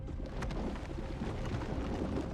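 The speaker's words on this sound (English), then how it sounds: "this time it begins with an earthquake. Our hero, of course, is in an underwater cave when the rocks overhead begin to rain down on him" Rumbling earthquake and tumbling rocks inside an underwater cave in the Ecco the Dolphin video game, a steady dense roar with scattered clattering debris throughout, fairly loud and unbroken.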